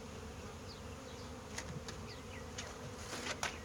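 Honey bees drone steadily around an open hive being split into a new brood box, with a close, continuous buzz and a few individual bees zipping past the microphone.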